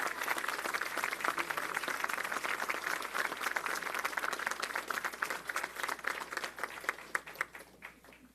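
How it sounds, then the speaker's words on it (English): Enthusiastic audience applause in a union hall during a mayoral minimum-wage announcement, dense rapid clapping that holds steady, then thins and fades out near the end. "Budget directors usually don't get applause, Dean."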